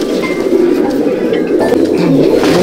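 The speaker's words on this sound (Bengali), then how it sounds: "দেখুন পায়রা" Pigeons coo in a home loft in Halisahar, North 24 Parganas, soft throaty calls overlapping up close against a low, steady murmur of birds.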